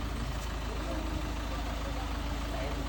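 A vehicle engine idles steadily nearby, a continuous low rumble running unbroken throughout, with faint background voices.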